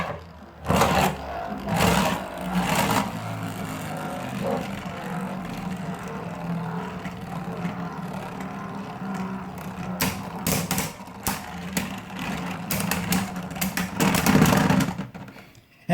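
Beyblade spinning tops Vex Lucius and Devils clash in a stadium, producing a steady whirring hum under repeated sharp clicks and scraping collisions. Louder knocks near the start and around the middle.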